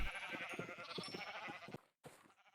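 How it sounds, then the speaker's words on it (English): Several wavering bleats from sheep on a farm in a blocky survival video game, close and fairly clear, broken by a brief silent gap before a softer final bleat. "the sheep farm seems to be growing bigger and bigger"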